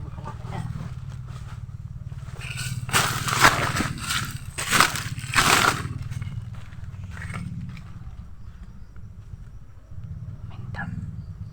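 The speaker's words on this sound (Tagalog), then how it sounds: "may motor Koy" A motorcycle goes by on a rural path, a low engine drone that swells to a loud close pass around the middle and then recedes, with people talking around it.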